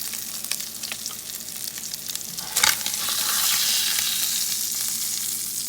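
Butter sizzles and crackles in a skillet after pan-seared tilapia and scallops come out, with a stirring scrape and then a louder, steady frying hiss.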